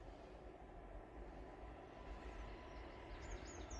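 Low steady rumble of a train approaching from a distance outdoors. It is continuous and fairly faint, builds slightly toward the end, and carries a few faint high squeals.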